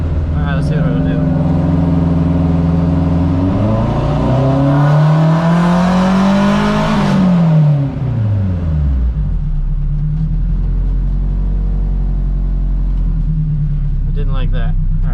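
A turbocharged Acura RSX with a quarter million miles revs on a dyno, its engine note climbing steadily to a loud high-rpm wail, then dropping back to a rumbling idle, all close and loud.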